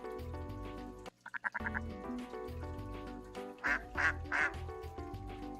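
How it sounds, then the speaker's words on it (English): A pet duck kept in an indoor cage quacks in a few short bursts, once in a quick run and later in louder clustered calls, over a steady background hum of music. "And the duck doesn't care anymore. Yeah, it's a duck."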